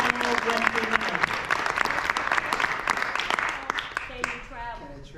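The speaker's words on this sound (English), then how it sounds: "give yourselves a round of applause" An audience at an arts town hall in Chicago's Black Ensemble Theater applauds: a full, steady wash of clapping that gradually thins toward the end, with voices and cheers mixed in over it.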